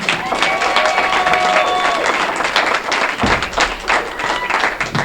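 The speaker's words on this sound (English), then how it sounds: "please make as much noise as you can for your host and first comedian, Jason Guerin" A comedy club crowd applauds and cheers for the host, dense clapping with whoops and voices, steady and fairly loud throughout.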